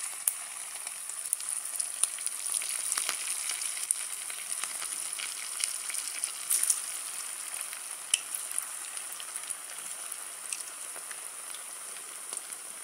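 Medu vada, South Indian lentil fritters, fry in oil over a low flame, a continuous fine bubbling hiss dotted with small crisp crackles and pops, steady and unbroken, no voices.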